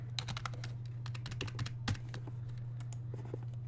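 Rapid, close keyboard typing of HTML code on a computer, a steady run of light key clicks over a constant low electrical hum, with no talking.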